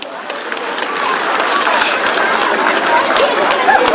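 Dense, loud applause from the audience at the 2011 Söğüt International Maritime and Culture Festival, honoring the event's organizers, sustained and building slightly, with faint crowd chatter mixed in.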